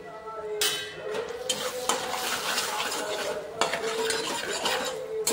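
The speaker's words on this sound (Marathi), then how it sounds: "अशा प्रकारे मसाला परतून घेतला आहे।" Spice masala of red chilli, coriander powder, turmeric and salt is sautéed in a pan for potato paratha filling, a steady scraping stir with soft sizzling and occasional utensil clinks throughout, close and fairly loud.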